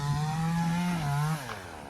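A tree-cutting machine runs while cutting neem trees, its engine giving a steady, buzzing drone that holds a constant pitch, then dips and eases off after about a second and a half.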